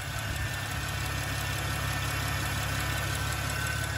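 Power steering pump on a car whining from an air pocket in the system, a steady close hum with an idling engine throughout, no talk.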